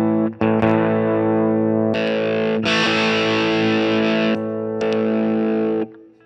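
An electric guitar plays through a Mosky handmade overdrive pedal, producing thick, distorted sustained chords that ring out in several strummed sections before fading at the end.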